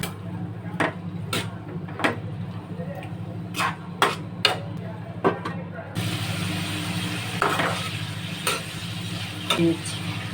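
Vegetables with coriander and salt frying in a home pan, a soft steady sizzle under repeated sharp clicks of a spatula stirring and tapping, growing brighter and louder partway through as more goes into the pan.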